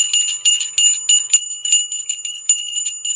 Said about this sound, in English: Before we start, a bell of blessing for everyone.